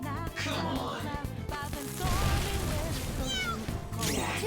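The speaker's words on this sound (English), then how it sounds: "I feel a little bad about just hearing that little meow, that little meow" Several cat meows in Persona 5 Royal, short rising and falling cries repeated through a busy mix of game music and battle effects.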